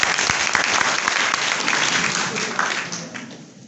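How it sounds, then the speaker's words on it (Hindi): A seated audience at a business gathering breaks into loud, dense clapping that stays strong and then trails off toward the end, close and filling the room. "एक बार जोरदार ताली बजा दीजिए।"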